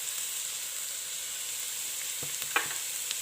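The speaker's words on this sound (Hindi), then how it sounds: "सब्जियों को थोड़ा सा सौते करने के बाद मैं इसके ऊपर नमक डालूंगी" Vegetables sautéing in a pan for fried rice give a steady, even sizzle, with a few brief scraping stirs near the end.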